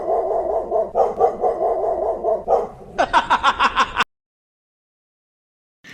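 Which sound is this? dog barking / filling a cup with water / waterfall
dog barking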